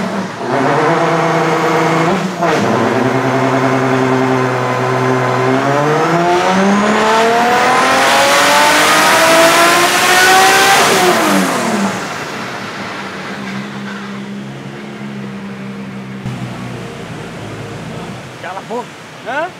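A Ford Mustang fitted with a Toyota 2JZ turbo engine revs hard, its pitch climbing steadily to a loud peak before dropping back to a rougher idle, with voices talking over it.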